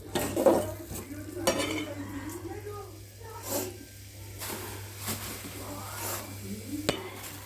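A spoon stirring egg curry in a pot, with intermittent scrapes and clinks against the metal over a light sizzle while someone talks throughout.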